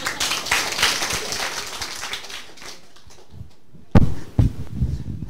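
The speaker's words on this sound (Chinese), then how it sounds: "接着再拍手啦！" An audience at a political meeting in Tainan claps in a rapid, dense patter that fades after a couple of seconds. A second sharp burst of clapping comes a little later, with faint voices between.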